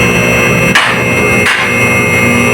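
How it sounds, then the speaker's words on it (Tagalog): The safety lock on a car lifter raising a Honda Mobilio at a Shell service station clicks twice in sharp metallic knocks, evenly spaced, over a loud constant hum of machinery. "yung tumutunog na yan ay lock ng ano yan ano, lifter"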